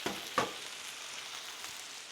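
Brussels sprouts with thick balsamic vinegar tossed in a hot pan, giving a steady close sizzle with a sharp clatter of tossing near the start and a softer one later, no talk.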